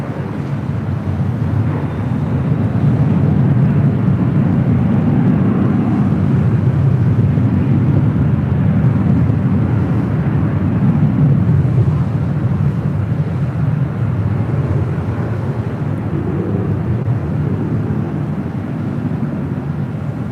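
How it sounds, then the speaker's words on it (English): A Delta Boeing 767-300ER jet on its takeoff roll at LAX sends out a loud, sustained low rumbling roar that swells and holds for the whole stretch, with wind buffeting the microphone. "Delta Airlines Flight 958 heading to JFK 767-300ER number 3 for takeoff."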